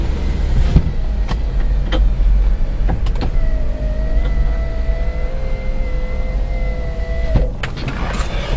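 Electric power windows on a 1986 Mercedes-Benz 420 SEL whir up and down in turns, the motor's rising hum broken by several sharp clicks and thumps as each window stops, close and loud against a low interior rumble.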